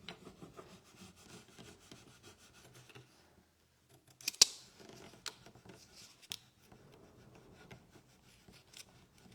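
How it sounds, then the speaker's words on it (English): Rubbing a stencil transfer onto a wooden market crate gives a soft, steady scratchy friction, a few sharper scrapes midway, then more rubbing at a quieter, uneven pace. "I feel like I'm rubbing too hard."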